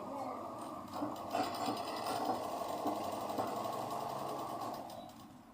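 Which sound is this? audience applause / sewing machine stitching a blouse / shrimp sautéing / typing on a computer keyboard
sewing machine stitching a blouse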